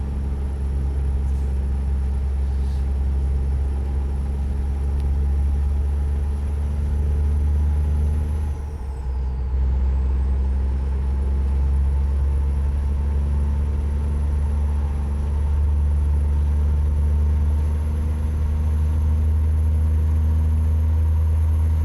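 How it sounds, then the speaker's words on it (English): A vehicle engine runs steadily in a video game convoy, a loud continuous low idle-like drone with a faint high whine that dips briefly midway before settling again, with no talk. "Dude, the engine sounds so good."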